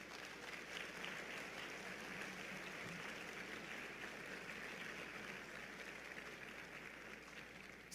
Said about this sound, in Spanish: Dale un aplauso al Rey de Reyes